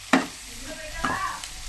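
Chopped capsicum stirred while frying in a pan, two quick scraping strokes of a spatula over a soft sizzle, close and brief.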